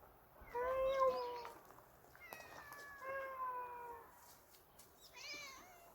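A cat being fed in Namsa Yedam Village, Korea, gives three fairly faint, drawn-out meows a second or so apart, with quiet background noise between them.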